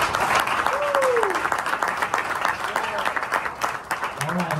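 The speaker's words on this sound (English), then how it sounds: "Give these guys a round of applause." An audience at a café performance by a high school jazz band applauds steadily, dense clapping with a few voices and whistles mixed in.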